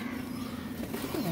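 Teddy pigeons give soft, low, drawn-out coos over a steady murmur of background noise, close by and fairly quiet.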